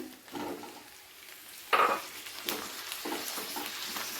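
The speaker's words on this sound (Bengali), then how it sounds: "পেঁয়াজটাকে 30 থেকে 35 সেকেন্ড একটু হালকা আঁচে ভালো করে নেড়ে চেড়ে নেওয়ার পরে দিয়ে দিতে হবে ক্যাপসিকাম" Onion and capsicum stir-fry in a pan over low heat for chili chicken, with a soft sizzle and a few scraping stirs of a spoon, close and fairly quiet with no talk.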